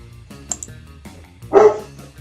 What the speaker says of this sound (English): And Linus is barking.